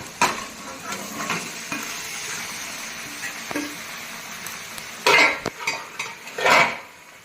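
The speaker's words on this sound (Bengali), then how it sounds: "এখন আমি মাংসটা দিয়ে ভালো করে মাংসটাও কষাবো" Duck meat sautéed with spices in a pot, a steady sizzle under repeated stirring scrapes, then two loud metallic clanks of utensil against the pot near the end, close by.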